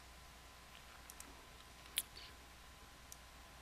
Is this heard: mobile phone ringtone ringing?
no